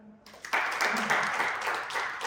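Participants in a stress management and meditation session clap together, a dense burst of many hands starting abruptly after a brief quiet moment and continuing steadily at close range.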